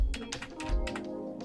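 Typing on a computer keyboard gives a quick run of close, crisp key taps in an irregular rhythm, fairly quiet against a still room.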